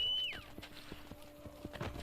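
Hooves of a horse in the video game Assassin's Creed Brotherhood clip-clop at a steady walking pace after a short whinny at the start, the clops soft and evenly spaced.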